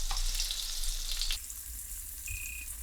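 Chips frying in a very hot pan while steak cooks alongside, a loud steady sizzle that drops to a softer crackle partway through, with a brief high beep near the end.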